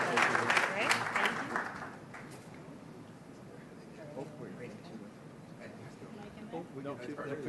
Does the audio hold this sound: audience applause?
yes